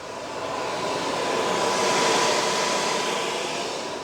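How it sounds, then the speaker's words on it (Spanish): An electric vehicle supercharger runs at full speed while charging, heard up close as a steady, loud broadband whoosh like an air conditioner, with a faint tonal hum and no voices. "así suena un supercargador cuando está cargando un vehículo eléctrico. A toda velocidad, como que fuera un aire acondicionado."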